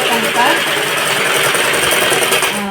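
A sewing machine stitches nighties in a rapid, continuous whirring run at close range, with a faint voice briefly heard under it.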